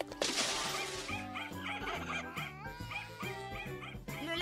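A cartoon dog whimpers and yips while being washed in a dog-washing machine, a series of short, close whines and yelps over a mechanical rumble and spray.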